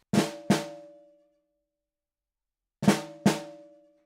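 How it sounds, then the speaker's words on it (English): Two pairs of crisp hits on a Carrera Hardcore snare drum, each a flam grace note snapping into a main stroke followed by a bounce, separated by a silence of over a second; close and dry. "flam and bounce. So we get this."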